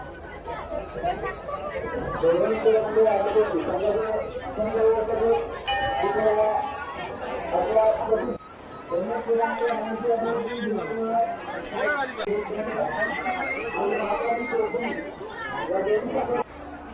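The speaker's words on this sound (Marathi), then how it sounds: "जर गर्दी बघितली तर कसली गर्दी आहे माहिती भयानक गर्दी आहे" A large crowd at the Navlai Devi temple fair in Koyna creates a dense, close hubbub of many overlapping voices, continuous apart from a brief dip midway.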